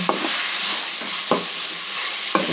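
Tomatoes sizzling and frying in a pan for avalakki, with a steady broadband hiss and three sharp clinks of stirring at regular intervals.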